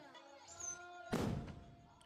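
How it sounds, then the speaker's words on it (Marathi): A single firecracker bursts in a muffled, distant-sounding bang during Hanuman Jayanti festivities, a short thud that quickly fades against a quiet background with a faint tone. "पहा फटाके कसे फुटतात।"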